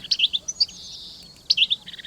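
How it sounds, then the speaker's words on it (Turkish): European goldfinch song: bright, high twittering chirps in two quick bursts with a short gap between, fairly faint and heard alone. "Saka böyle ötüyormuş."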